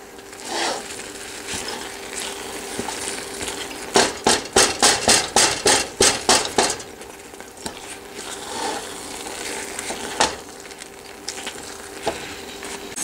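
Beans frying in a pan at low heat, a steady soft sizzle punctuated by a quick series of about a dozen rhythmic scraping or tapping strokes as they are stirred, then settling back to a quiet crackle.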